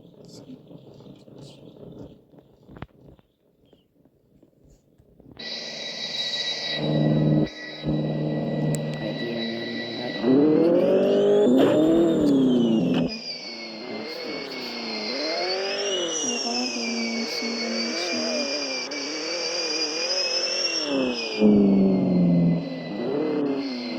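Car engine revving and whining through a drift mode in a Roblox racing game, rising and falling in pitch with tire squeal, loud and continuous after a quieter start.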